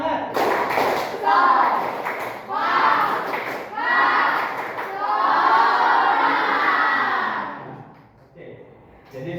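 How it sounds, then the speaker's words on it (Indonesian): A classroom of students performs a rhythmic group clap chant, bursts of clapping mixed with loud shouted voices in repeated phrases, close and energetic, then fading into quieter room sound. "Tepuk semangat."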